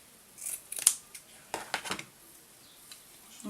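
Scissors snip through lace and fabric while a paper-clip fabric flower is made, a few crisp close cuts in a quiet room with short gaps between them.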